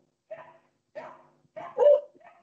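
Dogs bark in a few separate bursts, with a louder, more strained yelp near the end, at moderate distance and with no talk.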